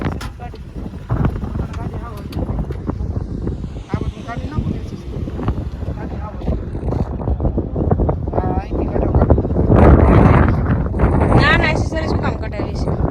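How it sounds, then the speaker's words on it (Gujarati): Strong outdoor wind buffets the microphone as a steady, loud roar that swells toward the end, with people talking over it throughout. "પવન બહુ આવે છે."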